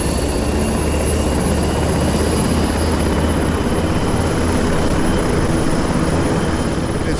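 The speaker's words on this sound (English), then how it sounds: "We are just witnessing the startup and the takeoff of an NH90." An NH90 helicopter starts up and takes off on an airfield apron, its loud, steady turbine roar and rotor noise filling the whole clip close by, with a thin high whine riding above it and no talk.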